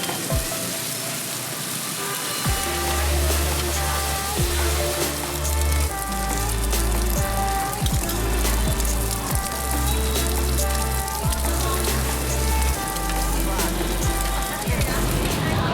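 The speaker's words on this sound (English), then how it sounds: "she's stirring up the cubes of the Butch In and lots of oil at the moment. And it's sizzling" Cubes of rice cake sizzle and crackle in plenty of hot oil as they are stirred at a Saigon street food stall. The steady frying hiss sits beneath loud background music.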